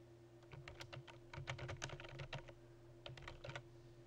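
Keys clatter on a computer keyboard in quick irregular bursts, close and fairly quiet, with a steady hum underneath and no talking.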